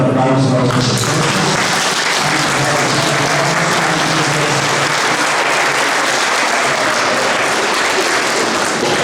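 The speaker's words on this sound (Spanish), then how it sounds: "Y le damos un fuerte aplauso a los profesores." Wedding guests in church break into loud, sustained applause that fills the whole stretch evenly, with a voice speaking briefly at the start under the clapping.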